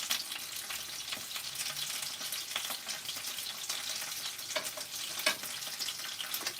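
Dumplings sizzle and crackle steadily in a hot pan, with scattered louder pops and spits throughout.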